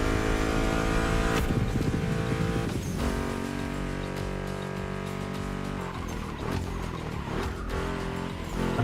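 Car engines revving in the racing game The Crew Motorfest, a continuous droning roar with shifting pitch blended under loud, steady background music throughout.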